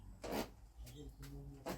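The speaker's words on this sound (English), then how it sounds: "So all this sanding's done now." Short rasping strokes of sandpaper on wood, about four passes with pauses between, close by and fairly quiet.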